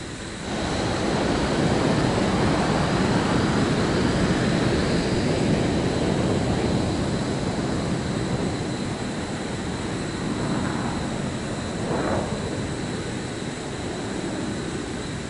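An airplane takes off in Microsoft Flight Simulator 2024 on PS5, its engine roaring as a loud, sustained broadband rush that holds steady and eases slightly over fifteen seconds, with no talking.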